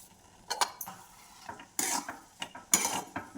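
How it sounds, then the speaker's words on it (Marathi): A spoon scraping and stirring amaranth (rajgira) sheera in a metal pan, several short irregular scrapes and clinks, close and fairly loud against a quiet background. "अशा हलवायच्या 2 मिनिटासाठी"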